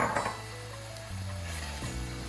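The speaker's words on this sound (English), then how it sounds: "let's add in the cooked chickpeas." Cooked chickpeas tipped into a hot pan for chana masala, a brief sizzle burst at the start settling into a steady frying hiss, with music playing underneath.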